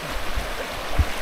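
Forest stream water flowing over rocks, a steady close rushing wash with faint low gurgles, heard alone for a brief moment.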